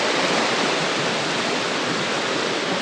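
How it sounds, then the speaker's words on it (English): Waterfall cascades along a hiking trail give a steady, dense wash of rushing water, loud and even throughout, with no voices. "There's so many beautiful cascades."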